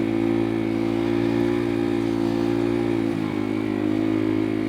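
A Kuba Race 125 motorcycle engine revs hard on a beach, a steady loud buzzing drone held close with a brief dip in pitch about two-thirds through before climbing again.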